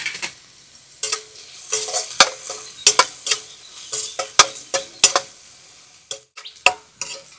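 Green chillies stirred in a hot pan in a home kitchen, a spoon scraping and knocking against the metal in irregular taps over a faint sizzle, close and clear with no talking.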